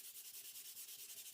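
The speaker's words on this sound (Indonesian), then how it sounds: "di sini selanjutnya kita amplas lagi ya. Di sini saya menggunakan amplas nomor" Steady rhythmic strokes of 150-grit sandpaper rubbing a filled, puttied wooden window frame, close and fairly quiet, repeating about eight times a second with no talk.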